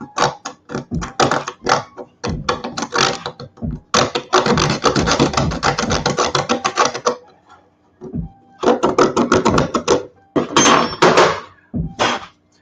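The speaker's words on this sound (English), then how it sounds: "I'm using basically like a real skinny file" A thin, skinny file rasps across a saw blade in quick repeated strokes, sounding close and fairly loud, coming in bursts separated by short pauses and one longer stretch of continuous filing.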